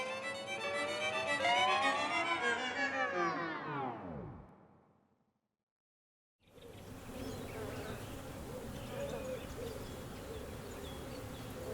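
Bees buzzing loudly and close in a dense drone that dips in pitch and fades out, then after a short silence a quieter, steady hum of many bees continues.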